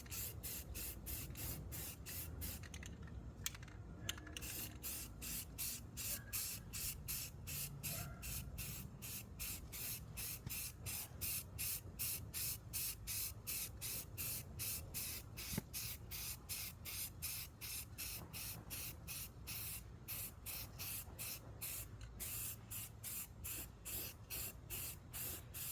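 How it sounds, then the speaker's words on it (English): Spray gun laying a coat of primer over welded sheet metal during rust repair, a steady close hiss running continuously with brief pulsing interruptions and short pauses between passes. "once I'm done spraying this coat of primer on there"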